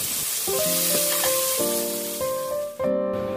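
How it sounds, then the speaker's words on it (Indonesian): Fish frying in hot oil, a steady close sizzle running throughout, with sustained musical tones layered over it. "Kemudian goreng ikan sampai matang dan permukaannya kering."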